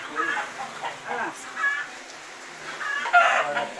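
A rooster crows repeatedly on a small farm, its strained calls rising and falling over a few seconds, with chicken clucking around it and faint voices in the background.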